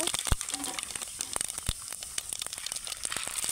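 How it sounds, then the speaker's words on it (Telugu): Mustard and cumin seeds hit hot oil for a tempering, giving a dense, crackling sizzle of sharp pops and spits that runs throughout, close and fairly soft. "ఆయిల్ మంచిగా హీట్ అయిన తర్వాత పోపు గింజలు వేసుకోవాలి."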